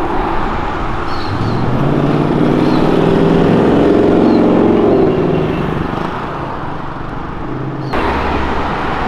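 A Ford Mustang rumbles past nearby on an avenue, its engine noise swelling as it approaches and fading as it moves away, over steady road noise.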